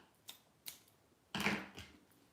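Scissors snip through knitting yarn: two short, sharp clicks, then a longer, louder crunching cut followed by a softer closing snip, close and alone.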